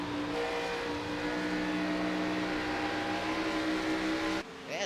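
Race cars roar past during a stock car race, with a steady engine whine that drops away abruptly near the end, heard at moderate distance.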